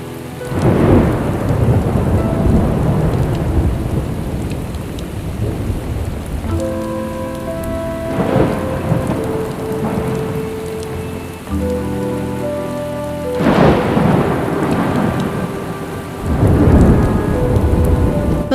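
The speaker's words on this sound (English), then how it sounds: "The drumming of the rain adds to our impression of an alluring legacy of several decades." Steady heavy rain drumming on surfaces in Trinidad, with repeated rolls of thunder swelling and fading, and soft music playing underneath throughout; no voices.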